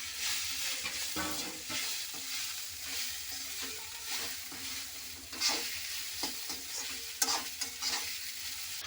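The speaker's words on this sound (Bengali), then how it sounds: "সাবুগুলো এবার ঘিয়ের মধ্যে দিয়ে নেব দিয়ে এবার হালকা করে নাড়াচাড়া করবো" Sago pearls frying in ghee for Bengali sabu payesh are gently stirred, giving a close, continuous sizzle with scraping strokes and a few sharper clinks toward the end.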